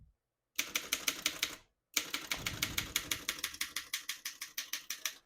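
Keys striking on a 1911 Underwood No. 5 antique desktop typewriter, a fast run of sharp metallic clacks in two bursts with a short pause between, close and fairly loud with no talking.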